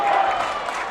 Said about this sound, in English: the Amherst crowd getting a little extra loud here